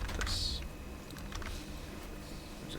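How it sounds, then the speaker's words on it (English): Quiet, rapid tapping on a computer keyboard as an IP address is typed, a steady patter of soft keystrokes with no talk. "And then we type the IP address"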